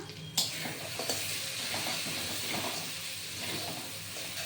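Bottle gourd kofta fry in hot oil with a continuous bright sizzle, broken by a few sharp clinks and stirring scrapes near the start, with no talking.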